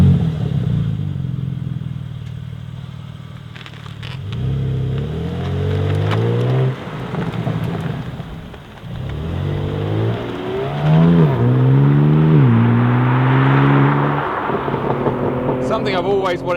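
A BMW M3 Touring with M xDrive lapping Bedford circuit, its engine pulling through rising gears, dropping on braking and climbing again, loud and continuous from inside the car with speech faintly underneath.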